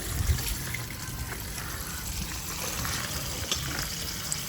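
Water trickles and splashes steadily while trees are watered outdoors, a continuous soft wash of noise with faint low rumbles.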